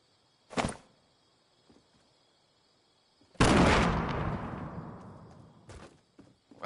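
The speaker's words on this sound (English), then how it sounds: "I thought somebody was shooting us from behind, too." Gunfire in Fortnite during a hectic fight: a short sharp shot early, then a loud blast whose noise trails off over a few seconds, followed by fainter pops.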